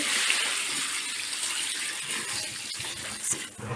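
Salt-water brine of 450 g salt in four and a half litres of water poured steadily over olives, a continuous close gushing splash with no talk.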